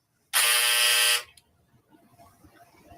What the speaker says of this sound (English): She's got a buzzer.